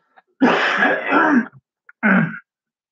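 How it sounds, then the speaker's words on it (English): A person coughs and clears their throat up close, a long rough bout followed by a shorter one after a brief pause. "Hang on, I got a cough a second."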